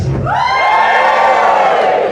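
A crowd at an outdoor Druid Eisteddfod gathering lets out a loud, sustained cheer and whoop, with voices rising together and holding for a couple of seconds.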